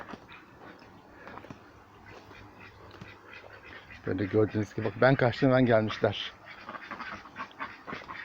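Ducks quack in a busy cluster near the middle, loud and close, with a person talking before and after over faint outdoor background.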